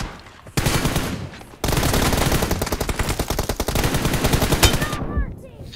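Loud, rapid automatic gunfire from a team deathmatch shooter video game, with a short opening burst, then a long sustained stream of fast shots that cuts off near the end.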